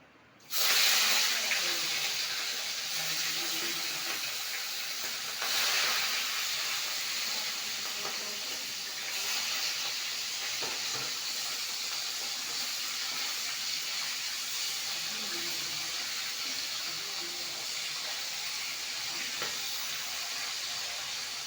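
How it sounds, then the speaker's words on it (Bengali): Catla fish heads dropped into hot oil in a kadai set off a loud, steady sizzling hiss that starts abruptly and carries on evenly. The frying continues close by with no talk over it. "তেলটা গরম হয়ে গেছে এখন মাছের মাথাগুলো ছেড়ে দেবো প্রথমে আমি কাতলা মাছের মাথাগুলো ভেজে দেবো"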